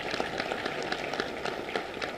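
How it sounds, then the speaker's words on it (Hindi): An audience applauds at an official ceremony where specialist doctors receive appointment letters, a fairly faint, steady patter of many hands clapping with no voices over it. "माननीय मुख्यमंत्री जी का आभार हम सब एक बार जोरदार तालियों के माध्यम से व्यक्त करेंगे।"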